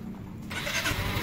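Yamaha Mio i125 scooter engine firing up: a brief starter whir, then the engine catching and settling into a broad, noisy idle close by, all within about a second.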